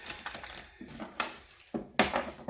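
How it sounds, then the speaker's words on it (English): Tarot cards being shuffled and pulled, a series of brisk dry flicks and slaps in irregular bursts, close and fairly quiet, with no talk. "We're going to pull some cards there."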